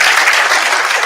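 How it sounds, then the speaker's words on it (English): A conference audience at an HIV and STI research dialogue breaks into a brief, dense round of applause, loud and close, with many hands clapping together. "So let's show appreciation with another round of applause."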